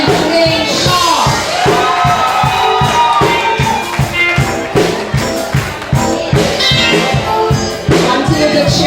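Loud, sustained crowd noise fills a 2023 graduation ceremony at Mineral Heights Christian Preparatory School, with cheers, whoops and shouts rising over a steady rhythmic pulse of clapping and no break in the din.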